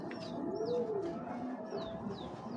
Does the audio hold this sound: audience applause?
no